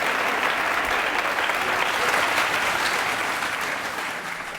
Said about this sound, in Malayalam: അമൻ അച്ചീവർ, എല്ലാവരും കൈയടിക്കേ.